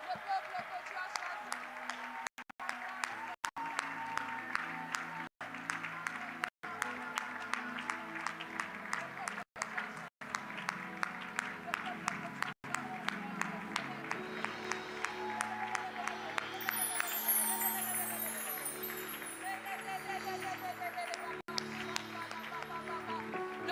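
A church congregation claps and cheers in praise during a worship service, a sustained wash of applause with a singing or preaching voice carrying over the crowd.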